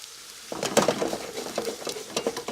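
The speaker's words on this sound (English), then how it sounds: "So nice hot pan. You want to get that Yep, I want seared on the outside." A sirloin roast sears in a hot pan, a steady sizzle rising abruptly after a quiet half-second, with scraping and clinks of handling over the frying; no talk.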